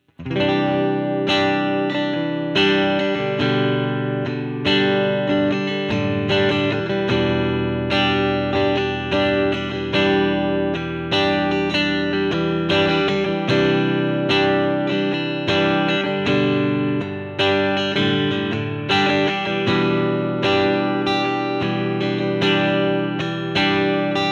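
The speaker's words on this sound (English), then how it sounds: "Without the mod thing on, let's just try and see the strumming." An electric guitar strums chords steadily and continuously through a clean amp simulation in AmpliTube 5, full and ringing, with no voices.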